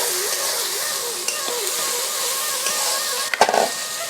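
Fish pieces fry in a covered pan of hot oil while preparing a Bengali fish-head curry, giving a steady, even sizzle, with a brief clatter of a utensil near the end.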